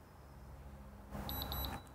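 A Hunter ROAM irrigation remote gives a quick run of short, high electronic beeps as a zone turns off, close and clear over a quiet background hum.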